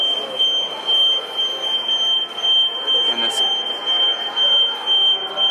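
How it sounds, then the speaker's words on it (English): A loud, steady high-pitched alarm tone sounds continuously at a hypercar auction during Monterey Car Week, with crowd chatter and talking underneath. "little homie just set off the alarm."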